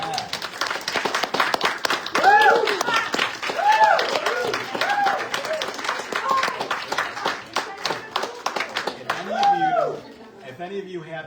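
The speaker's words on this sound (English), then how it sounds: "Can we just give them one more big round of applause" An audience at an authors' night in a bookstore gives a big round of applause, with rapid clapping and scattered cheers mixed with voices throughout, tapering off at the close.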